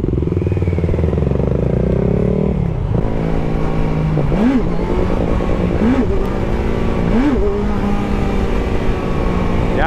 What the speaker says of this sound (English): I really struggle with the second gear clutch ups on this bike.